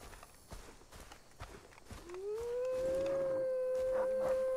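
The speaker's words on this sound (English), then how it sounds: "Kill the stupid dogs that are here." Dogs in the video game Far Cry 3 give a drawn-out howl that rises and then holds steady for about two seconds, loud and close, after a run of footsteps and thuds.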